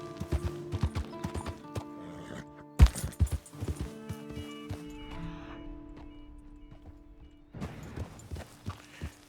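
Hooves clip-clopping in Red Dead Redemption 2, a loose run of close, uneven clops with short gaps, then a brief snort or whinny-like burst near the end; no talk.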